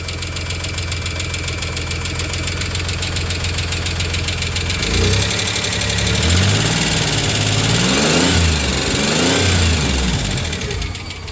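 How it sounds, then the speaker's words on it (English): The Chrysler 3.0 V6 in a 1993 Dodge Caravan runs continuously, close and loud, with a ticking rhythm over its idle and a few revs rising and falling midway. "A little ticky, but it's alive and I think it's running on 6."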